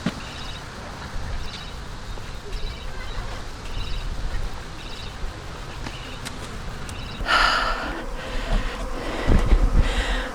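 A honeybee swarm buzzing around a box outdoors, a continuous hum from many bees with individual bees droning past the microphone, louder near the end with some handling rustle.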